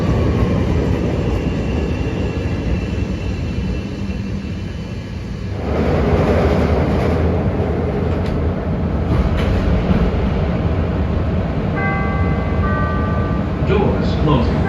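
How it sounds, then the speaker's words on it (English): A Chicago Purple Line train rumbles loudly along the elevated tracks just before Belmont as it crosses over to the other track, with a shift in the rolling roar midway and brief squealing tones near the end. "Shortly before Belmont, the Purple Line switches to the other track."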